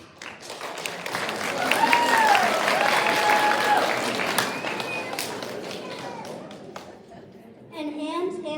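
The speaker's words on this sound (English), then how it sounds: "And audiences applauding." Audience applause and cheering at an elementary school Broadway-themed stage performance by third and fourth graders, a loud sustained swell of clapping with voices mixed in, fading slightly before a burst of music or singing at the end.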